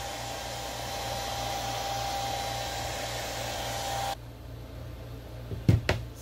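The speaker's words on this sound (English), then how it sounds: "Now we're going to use the blow dryer a little bit longer and help the crackle action start." A blow dryer runs on its low cool setting with a steady whirring hum that cuts off abruptly, followed by quiet room tone and a couple of brief handling knocks.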